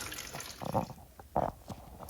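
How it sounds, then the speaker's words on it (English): A toilet with a clogged siphon jet flushes weakly, giving short gurgling bursts of rushing water close by that rise and fade in uneven surges. "So it's not flushing very well, but that's because the siphon jet is clogged."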